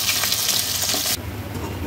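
Onion masala paste frying in oil in a pan, a loud dense sizzle that suddenly drops to a softer crackle about halfway through, close up with no talk.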